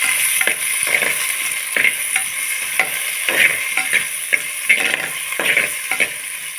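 Steady frying sizzle of tomatoes sautéing in a pan for fish curry, with repeated scraping stirs, roughly one stroke every half second, close up, with no talking.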